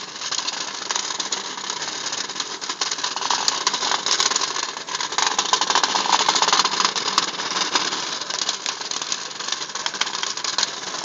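Several small Hexbug toy robots buzz and whir continuously as they battle, wedge together and spin, a steady close-up mechanical drone with small clicks and no talking.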